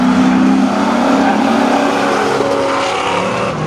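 A second-generation Pontiac Firebird and a third-generation Chevy Camaro launch side by side at a spectator drag race at Seekonk Speedway, engines roaring loudly and steadily with a hint of tire squeal.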